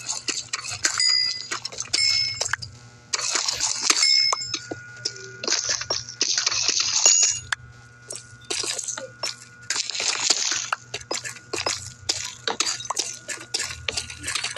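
A pickaxe breaks blocks in Minecraft with quick, crunchy clinking hits in short bursts. Bright game chimes sound over a steady low background.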